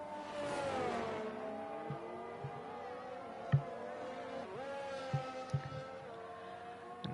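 A racing car engine from an F1 video game on a lap at Qatar, heard onboard as a sustained whine that rises and falls through gear changes and corners, with a few brief knocks and no speech.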